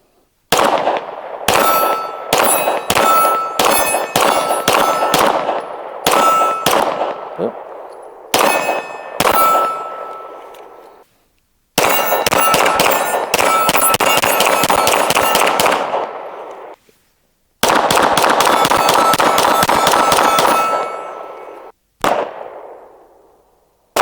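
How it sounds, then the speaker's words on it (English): A Derya DY9 shotgun fires CCI Blazer rounds outdoors in rapid strings of loud, sharp shots, each with a ringing tail. Short pauses separate the bursts, and a final lone shot closes the sequence. "we're gonna go and see how many rounds we can put through it before we run out of daylight tonight"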